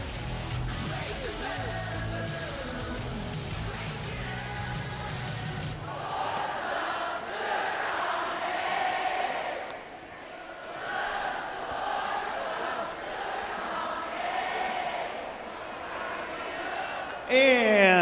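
A baseball stadium crowd sings together in a crowd sing-off, a broad massed roar of voices that swells and falls, with an announcer heard speaking over a loud public-address mix.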